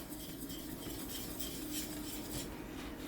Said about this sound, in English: so we'll just whisk, whisk, whisk, get it all mixed up